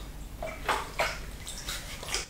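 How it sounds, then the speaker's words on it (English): Running water splashing over hands being washed, a soft close wash with a few brief louder splashes, no talk. "Let's wash our hands."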